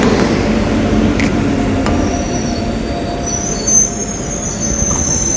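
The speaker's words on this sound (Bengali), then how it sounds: "দেখতে পাচ্ছ ট্রেন কিন্তু ঢুকে গেছে।" Passenger train no. 37880 pulls into Azimganj Junction station, its wheels squealing sharply and repeatedly over a steady, close rumble of rail cars.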